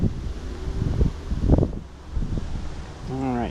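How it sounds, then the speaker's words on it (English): Outdoor wind blows in low, rumbling gusts against the microphone, fairly loud and close, with a person talking intermittently over it. "It's windy and nice out here"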